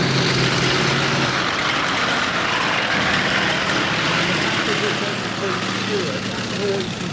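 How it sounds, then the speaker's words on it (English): A loud radial aeroplane engine drones and rumbles steadily throughout, its throbbing tone continuous with no pauses. "That noise you can hear there, it's an aeroplane engine. Radial engine"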